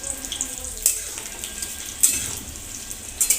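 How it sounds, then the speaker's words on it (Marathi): Grated coconut frying in hot oil for a puffed-rice chivda, giving a steady close sizzle with faint bubbling and a few sharp spatter pops. "आता आपण खोबरं टाकलं आहे तळण्यासाठी, ते पण छान ब्राऊन तळून घेऊ।"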